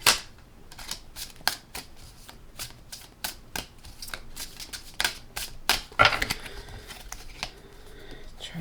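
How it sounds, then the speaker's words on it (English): A deck of Golden Tarot of the Renaissance cards is shuffled by hand, giving close, crisp riffling snaps and quick flutters in irregular bursts, with no talk over them. "So I'm going to shuffle these cards."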